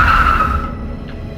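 A car skids to a stop on a deserted road, a short sharp tyre squeal at the start fading into a steady low engine rumble, with no talk over it.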